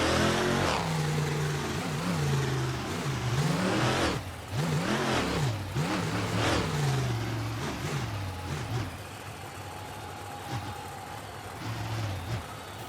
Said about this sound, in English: Overkill revving it up for the fans a bit. Real quiet engine,